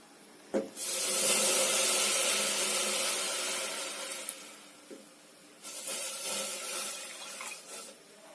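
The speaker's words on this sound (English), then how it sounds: "next you will need to add the milk in" Milk poured into a pot for homemade hot chocolate, a steady liquid rush and splash that runs for several seconds, pauses briefly, then resumes a little quieter, close by with no talking.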